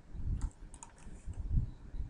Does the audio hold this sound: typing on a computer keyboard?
yes